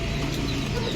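Pigeons, including long-faced birds, cooing in a loft or net enclosure, a dense steady murmur of overlapping low coos with no gaps.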